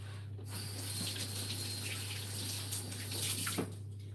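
Hands being washed under a running kitchen tap, a steady close stream of water with splashing and rubbing variations throughout, alongside a constant low electrical hum.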